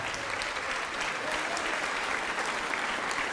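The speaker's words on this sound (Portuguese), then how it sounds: "Vamos aplaudir mais ao nome de Jesus." A church audience at a televised programme applauds steadily, a dense, even wash of many hands clapping at moderate distance without pause.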